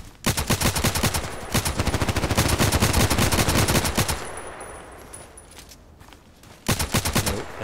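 Gunfire in the video game Contract Wars, a sustained loud burst of rapid automatic shots, then a quieter stretch of ambience before another close burst starts near the end.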